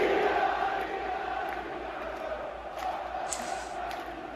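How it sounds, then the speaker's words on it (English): Roaring football crowd at a Newcastle match against Nottingham Forest celebrating a goal, a broad, loud wash of cheering and shouting that gradually eases off, with some whistles. "it was a brilliant goal and the crowd went crazy."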